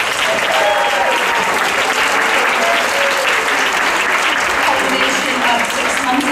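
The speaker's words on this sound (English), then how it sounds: "let's all just give a huge round of applause to all three finalists" An audience at a startup showdown event gives a loud, sustained round of applause for three finalists, dense clapping that holds steady for several seconds with a crowd murmur underneath.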